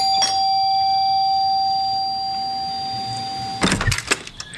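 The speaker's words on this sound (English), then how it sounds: "go up and ring that doorbell" A doorbell rings on Halloween night, one clear sustained electronic chime tone holding steady for several seconds, then cutting off into a few sharp knocks or handling noises.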